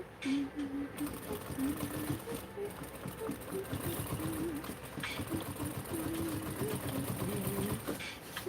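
Sewing machine stitching fabric, running in a fast continuous rattling chatter close by for the whole stretch, with brief pauses and a voice speaking over it.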